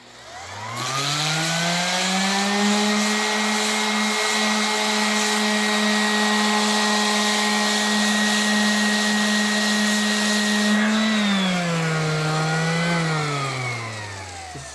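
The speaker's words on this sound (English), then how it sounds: "So what we'll do is we're going to take the sander." A power sander spinning up against a disc face to clean it before fitting Velcro backing, a loud steady motor whine that holds pitch, then dips and recovers under load before winding down.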